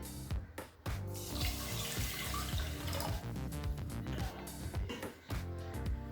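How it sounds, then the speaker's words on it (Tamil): Water is poured into a pot of soaked little millet, a loud, close, continuous splashing gush with brief breaks near the start and end. "அடுத்து 2 கப் தண்ணி சேர்த்துக்கலாம்"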